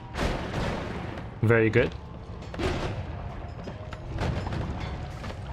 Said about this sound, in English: I'm immune to those explosions